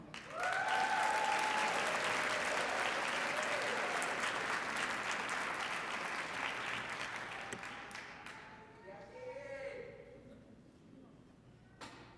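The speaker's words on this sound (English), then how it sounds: "Please give a round of applause for Caden Trevino." A crowd applauds loudly and steadily at a nursing graduate recognition ceremony, the clapping fading gradually toward the end as a few voices murmur underneath.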